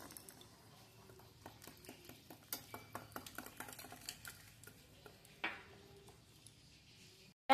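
Batter of egg and water being stirred and beaten in a bowl, a quiet series of soft rhythmic taps and scrapes, fairly faint and steady, with a sharper clink near the end.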